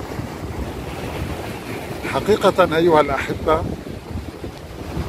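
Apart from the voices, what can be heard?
strong sea waves breaking on shore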